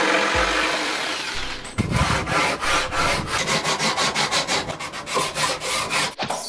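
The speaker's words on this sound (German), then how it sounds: "Wir schneiden das jetzt aus dem Holz raus." Wood being sawn to cut out pieces, a rapid run of rhythmic back-and-forth saw strokes rasping through the board after a short rough scraping start, close and fairly loud with no voices.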